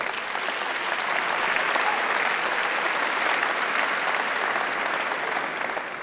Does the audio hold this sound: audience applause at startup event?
yes